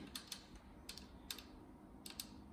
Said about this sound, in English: once the cable is actually tight on the pinch bolt, you can actually fine tune the gearing by this thumb screw